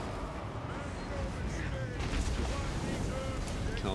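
Battle in Total War: Warhammer 3 with flame cannon shots and magical bomb blasts, a dense, rumbling barrage of booms rolling on continuously at moderate distance.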